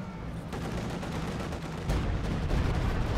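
Stuka dive bomber firing during a bombardment in the Company of Heroes 2 video game, a rapid, continuous rattle of gunfire and blasts that grows heavier partway through and stays loud to the end.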